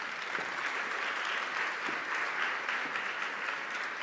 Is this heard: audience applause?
yes